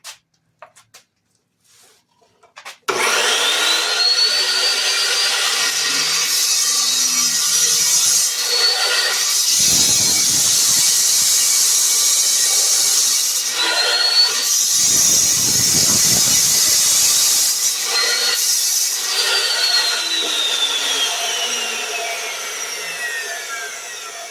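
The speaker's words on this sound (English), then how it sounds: "we bring it down for a count of 2 or 3, and then we release, take the pressure off" A saw blade cuts through a pump action shotgun with a loud, sustained metallic screech and squeal, broken by short pauses where the pressure is released, then resumes.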